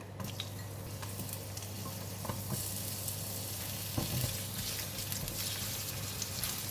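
Ginger frying in hot cooking oil for a pork stir-fry, a steady close sizzle that holds evenly throughout with a low constant hum beneath and a few faint scrapes.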